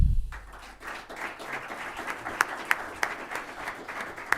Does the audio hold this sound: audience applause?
yes